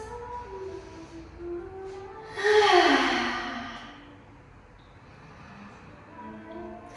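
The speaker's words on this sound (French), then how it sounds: "3 grandes respirations ici" A single deep breath during a yoga pose, a long breathy exhale that swells and then fades, close and clear, with quiet breathing before and after.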